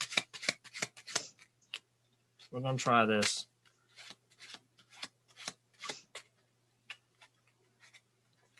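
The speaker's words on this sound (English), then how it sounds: "I'm going to shuffle the cards." Playing cards are shuffled by hand, making quick crisp riffling clicks and a brief flurry of flicks, with a person talking around them.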